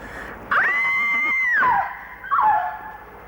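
A woman in an Egyptian comedy film scene lets out a long, high-pitched, sustained scream lasting about a second. A shorter falling cry follows, with no talk over it.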